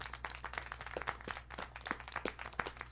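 Clapping in the game Syberia: The World Before, a run of steady, evenly spaced hand claps at a moderate pace, fairly faint and close, over a low background hum.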